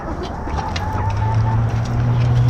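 Chickens cluck and murmur in a coop while pecking at an egg, with soft repeated calls over a steady low background hum.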